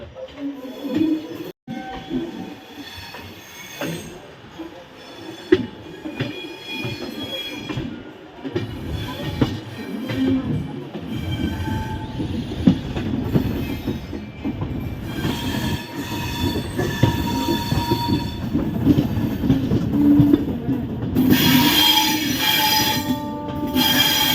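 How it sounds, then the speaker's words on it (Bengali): The Jammu Tawi Express pulls out of Lucknow station, wheels squealing and grinding steadily along the rails, with a continuous rolling rumble that builds and a sharper screech toward the end. "এখন ট্রেন লখনউ ছেড়ে যাচ্ছে"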